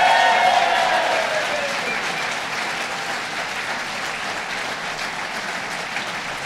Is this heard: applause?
yes